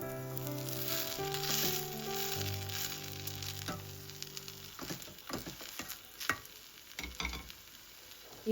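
A spoon stirs apple ksheera in a pan, the scraping and soft bubbling rising after a stretch of music and continuing as a close, uneven series of scrapes and taps.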